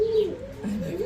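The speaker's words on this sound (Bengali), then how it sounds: "এখানে এক পিস জার্মান শিল কবুতর" A male German Shield pigeon coos twice in quick succession, a soft, close, throaty warble with no other sound around it.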